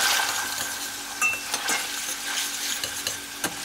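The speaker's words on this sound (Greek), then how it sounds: "Ανακατεύουμε καλά για να μην μας αρπάξουν." Chylopites pasta stirred in a pot with a little oil, a sizzling fry under scraping strokes and light metallic clinks from the utensil against the pot, close and continuous with no speech.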